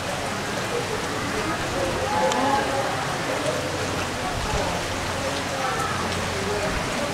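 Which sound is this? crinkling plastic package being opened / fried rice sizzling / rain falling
rain falling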